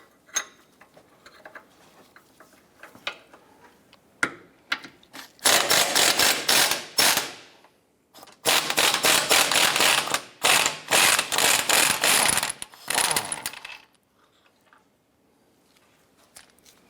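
A hand ratchet works loose the control arm bolt on a 2010-2016 Cadillac SRX, starting with a few scattered clicks and then long bursts of fast, loud ratcheting close by, tapering back to quiet, with no talking.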